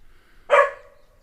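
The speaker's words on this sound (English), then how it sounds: "there's a dog far away barking" A single distant dog bark rings out briefly, slightly echoing, against an otherwise quiet background.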